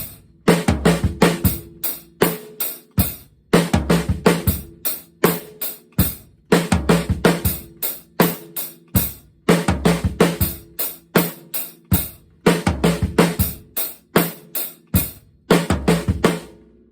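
A drum kit plays a repeating linear 16th-note fill across floor tom, snare and kick, led by the left hand on upbeats, in quick dense bursts separated by brief gaps, loud and close with no talking.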